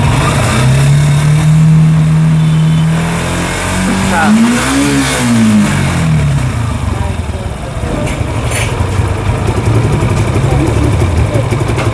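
A Suzuki Gixxer naked motorcycle at a service shop runs loudly up close, its engine note dropping and rising again as a pipe is pressed shut and released, with someone talking over it.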